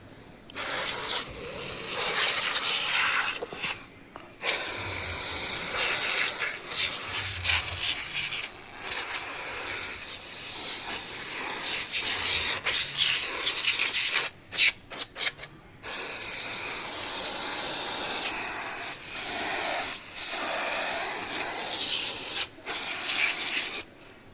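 Moto Max cleaner is sprayed onto a motorcycle helmet in repeated hissing bursts, mixed with close rubbing and wiping, separated by a few short pauses.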